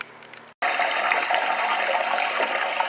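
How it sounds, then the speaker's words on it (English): Water from a hose rushing into the onboard water tank of a 1974 GMC RV, a steady loud gushing fill that starts abruptly after a brief pause and continues unbroken. "You can hear the onboard tank there filling."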